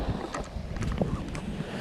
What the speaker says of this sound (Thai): คลื่นโคตรแรง แล้วมีลมอีก